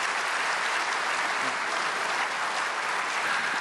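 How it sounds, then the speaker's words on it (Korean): An audience at a prayer meeting claps in sustained, even applause welcoming a speaker, dense and steady for several seconds with no talking over it. "박수로 환영해 주시겠습니다"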